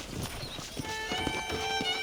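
Horse hooves clip-clop at a steady walking pace on a ranch in the Red Dead Redemption video game, close and even, with a soft harness jingle and faint ambient game music beneath.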